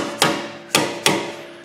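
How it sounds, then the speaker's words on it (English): Three sharp hammer blows on metal during a front brake job on a Ram Promaster City, each a loud close strike with a short ringing decay, spaced unevenly. "Get a hammer."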